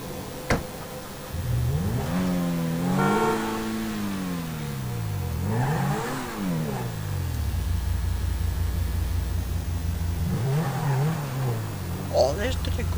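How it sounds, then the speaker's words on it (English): Car engine revving and rising in pitch as it accelerates through several gear changes while driving in GTA V, loud and continuous, with someone talking over it at times. "Oh, this is a great engine for this car."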